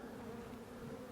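A soft, steady drone of many honey bees buzzing together in a hive, continuous and low-pitched.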